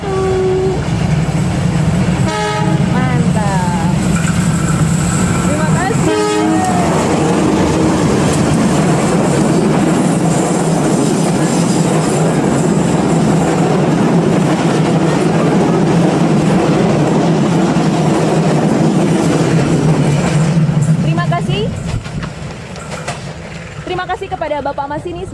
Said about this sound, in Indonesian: Ini dia kereta Serayu Pagi dari Pasar Senen tujuan akhir Purwokerto yang meliuk indah keren di jembatan Petak Lewi Goong Cibatu.